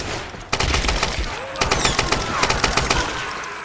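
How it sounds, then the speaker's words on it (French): Rapid machine gun fire from the Tomb Raider video game, loud continuous bursts of shots sustained across the clip after a brief quieter opening, with no speech. "je vais peut-être les faire à la mitrailleuse, ceux-là"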